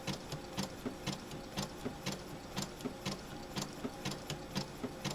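A sewing machine stitches applique onto a baby boy's quilt, giving a steady, quick mechanical chatter of needle strokes at a close, moderate level with no talking.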